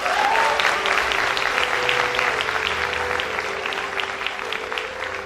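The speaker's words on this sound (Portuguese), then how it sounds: "Vou dar uma aplauso ao Senhor." A church congregation applauds during a Portuguese-language worship service, steady close clapping filling the room throughout, with a brief vocal exclamation at the start and a faint background tone underneath.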